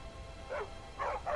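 Dog in Skyrim barking, three short yips and bow-wows spaced across the moment, moderately close but fairly quiet against a low background hum.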